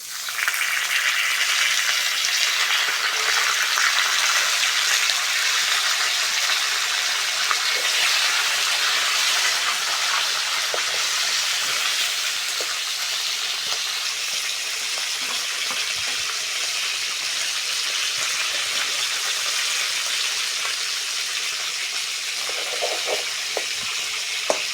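Fish head frying in a little oil with bay leaf and salt, giving a steady loud sizzle and crackle that runs continuously with faint stirring clatter.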